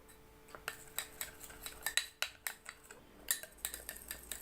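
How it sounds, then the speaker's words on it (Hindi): A spoon stirs Colgate toothpaste into squeezed ginger in a bowl, giving a quick run of light metallic clinks and scrapes against the bowl, close and quiet, with no talking. "मैंने पेस्ट को अदरक के अंदर अच्छी तरीके से मिक्स कर दिया है"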